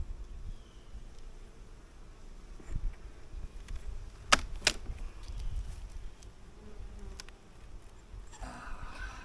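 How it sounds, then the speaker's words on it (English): Honey bees buzz in a low, steady drone during a beehive inspection, with a few sharp close passes and light knocks against the hive. "There's a lot of bees down here, y'all."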